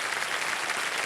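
Studio audience on the Hindi quiz show Kaun Banega Crorepati applauds as new contestants are introduced, a brief, dense and loud roar of clapping with no talk over it.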